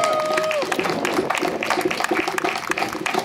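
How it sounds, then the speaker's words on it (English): Audience applause and crowd noise at a gathering for the woke generation and an American Spring, dense clapping holding steady throughout with cheers and a brief whistle at the start. "get that brother a round of applause"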